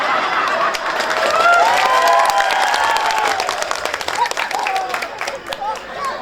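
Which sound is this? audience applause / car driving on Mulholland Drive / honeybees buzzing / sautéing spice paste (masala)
audience applause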